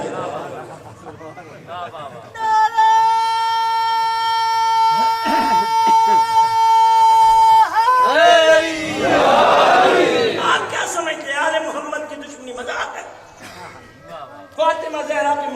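A crowd at a religious gathering chants slogans together, loud massed voices rising in unison with held tones and surging cheers, alternating with stretches of overlapping shouting.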